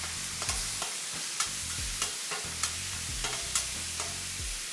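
Cheesesteak eggroll filling of chopped thin-sliced meat being mixed in a pan, a constant sizzle punctuated by regular spatula scrapes about every half second, no speech.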